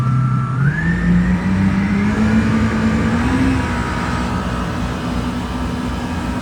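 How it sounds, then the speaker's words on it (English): A 2008 Yamaha 212X wakeboard boat's inboard engine throttles up on the water, its loud steady drone climbing in pitch over the first few seconds and then holding a raised, even tone with no talk. "we're gonna go ahead and bring the throttle up. Get it going straight, and then we'll speed it up a little bit."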